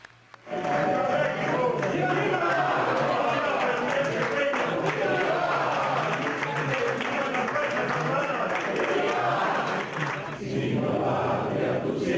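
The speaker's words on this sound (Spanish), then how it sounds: "Y fue recibida la noticia con aplausos." A newsroom bursts into applause at word of Joaquín "El Chapo" Guzmán's capture, a dense, sustained wash of clapping mixed with voices and crowd noise that runs for about ten seconds and briefly dips near the end.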